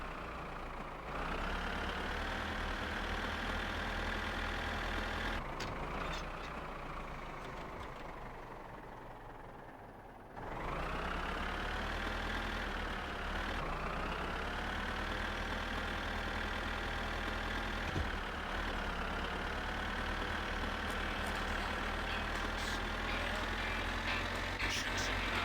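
A car engine running in My Summer Car, droning steadily at moderate volume, easing down and briefly quieting near the middle before picking back up and holding an even, rough hum.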